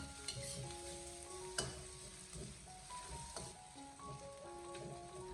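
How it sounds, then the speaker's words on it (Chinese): Diced aromatics and black fermented beans stir-fried slowly over low heat in a wok, a steady oily sizzle with scraping spatula strokes and a few sharp clinks, no talking. "再继续的开小火，给它慢慢的煸炒一下"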